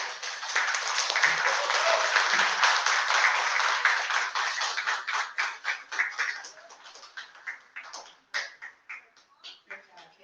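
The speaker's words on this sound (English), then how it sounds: "give yourself a round of applause" Attendees at a teacher training session clap for themselves, a full round of applause that holds steady before thinning out into scattered, fading claps, with a voice briefly heard at the start.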